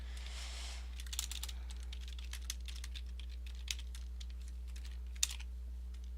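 Computer keyboard typing in quick, irregular bursts of clicks over a constant low electrical hum, fairly faint and close, with no voices.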